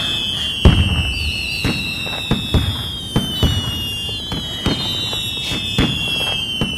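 Fireworks set off to celebrate a marriage proposal on a cold night, a run of sharp pops and bangs at uneven intervals, with a bright sustained tone running underneath.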